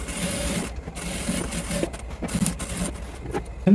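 A sewing machine stitches the waist joint of a pair of pants in short, uneven runs of rapid mechanical chatter, pausing and restarting at close range.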